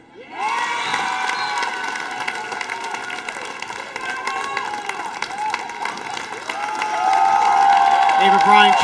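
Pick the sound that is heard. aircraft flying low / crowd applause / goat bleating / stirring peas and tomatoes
crowd applause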